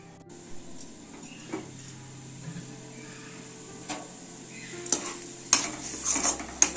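Onion, ginger and garlic paste frying in a pan for a Chhattisgarh-style chicken curry, with soft steady sizzling, spoon scraping and stirring, and a few louder metallic clinks toward the end; no talking.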